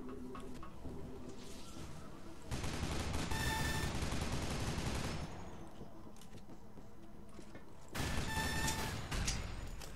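Assault rifle fire in the game Loadout comes in two long, dense bursts of rapid shots with a quieter lull between them, loud and close.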